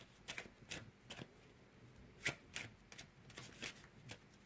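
Quiet, crisp riffling bursts of playing cards being shuffled, a quick series of soft flutters and snaps repeating irregularly, close by with no talking.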